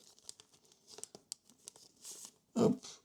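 A paper booster pack of Panini Yu-Gi-Oh cards is torn open by hand, a run of small crinkles and rips ending in one louder tearing rip near the end, close and quiet.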